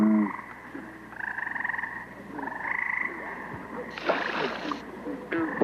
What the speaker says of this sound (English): Bullfrogs vary a lot in size and color